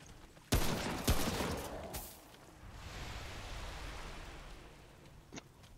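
Enemies in Remnant: From the Ashes blow up in a few sharp, loud blasts in quick succession, each followed by a crackling, noisy tail that fades into a rushing wash, with one small pop near the end.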